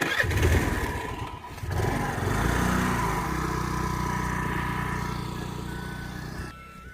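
A scooter engine starts nearby and runs with a steady buzzing drone, rising as it revs in the first seconds, then holds an even pitch before dropping off at the end.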